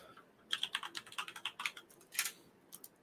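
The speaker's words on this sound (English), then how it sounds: "And when I type in," Quick bursts of keystrokes on a computer keyboard, close and crisp, tapping in an uneven rhythm with a short pause before a final few presses.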